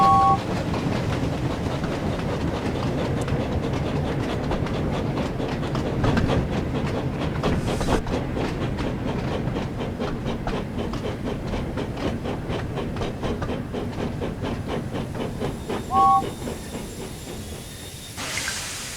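Freight train hauling fish and coal trucks in the Thomas and Friends: Wonders of Sodor video game, running steadily with continuous rumble, rhythmic clickety-clack and hiss, plus two short horn-like tones near the start and end.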